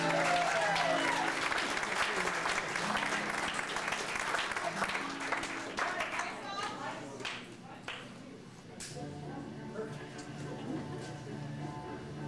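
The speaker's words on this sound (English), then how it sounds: "Let's give them a big round of applause." An audience applauds after a German ballet company's performance of the Nutcracker, a steady, dense clapping that thins a little midway and continues under voices.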